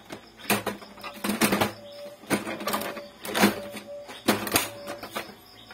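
An Epson L3110 inkjet printer runs its gears in repeated mechanical whirring and clicking bursts, close and moderately loud, with short pauses between cycles.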